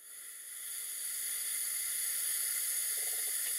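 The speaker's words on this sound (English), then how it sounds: "with the compressed air line firmly connected to the engine, it's time to turn on the air supply and see what happens" Compressed air hisses steadily into a small model steam engine with a slide valve in a workshop, rising from quiet to a constant loud, bright rush that holds to the end.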